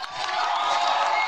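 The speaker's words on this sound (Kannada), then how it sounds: "ಕೊಡ್ರಿ ಚಪ್ಪಾಳೆ ಅವ್ರಿಗೆ." Audience applause and cheering at a Kannada TV comedy show, a dense steady wash of many hands clapping with some whoops, close and loud throughout the short burst.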